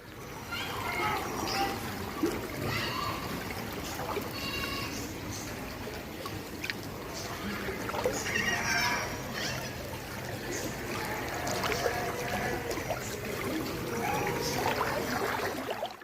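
Waist-deep floodwater flows steadily through a flooded residential street in Thoothukudi's Kurinji Nagar, with a continuous trickling, splashing wash and people talking over it throughout.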